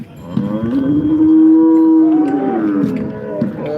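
A single cow gives a loud, close, drawn-out moo at the Modnimb cattle market in the morning. No voices are heard over it.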